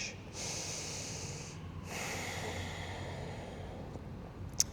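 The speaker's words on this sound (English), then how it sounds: "Breathing deep." Deep, slow breaths during a gentle full-body mobility yoga session, with two long broadband inhale or exhale swells that are steady and close-up, plus a brief sharp click near the end.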